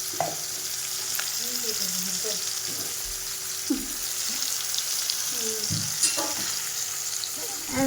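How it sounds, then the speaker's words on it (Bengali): Fish frying in hot oil in a home kitchen, a constant crackling sizzle with occasional stirring scrapes and faint background voices, close and steady. "মাছটা ভালো করে লাল লাল করে ভেজে নিব"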